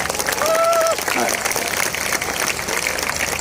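An audience at a Save Soil talk in Nashik claps in a broad, sustained burst of applause, with a voice rising briefly above the clapping early on.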